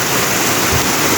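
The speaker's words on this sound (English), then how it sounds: "how my neighborhood is right now with this rain" Heavy rain in Mombasa pours down with floodwater flowing through a neighborhood street, a dense, loud, unbroken rushing hiss.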